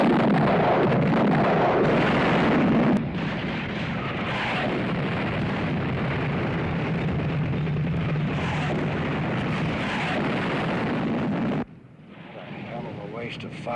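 Continuous rumbling musket volleys and booming artillery fire in the War of Rights Civil War battle game, a dense roaring barrage that cuts off abruptly near the end.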